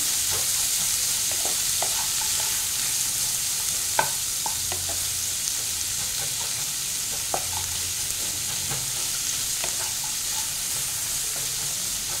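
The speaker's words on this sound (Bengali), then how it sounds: "একটু পরে আমি ক্যাপসিকামটা দেবো। এটাকে আমি একটু হাই ফ্লেমেই ভাজবো" Capsicum stir-frying on a high flame in a pan for Hakka noodles, a continuous bright sizzle and hiss broken by irregular stirring clacks and scrapes, close and alone without speech.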